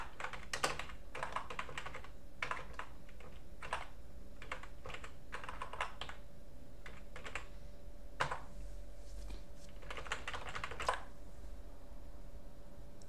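Someone types a command on a computer keyboard while starting the display manager on an Arch Linux system. Bursts of quick, light key clicks come in irregular clusters with short pauses between them, close and fairly quiet over a faint hum.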